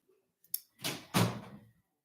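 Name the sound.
door being closed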